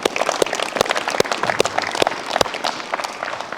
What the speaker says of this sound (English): can we give these boys and girls a round of applause?